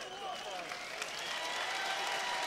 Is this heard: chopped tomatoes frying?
no